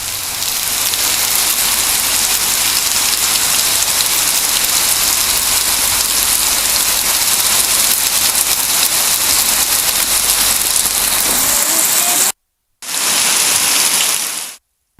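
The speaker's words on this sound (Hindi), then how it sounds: "नैनीताल में मूसलाधार बारिश का सिलसिला लगातार जारी है।" Heavy monsoon downpour in Nainital drums steadily and loudly on surfaces as a dense, continuous hiss, cutting out briefly near the end before resuming.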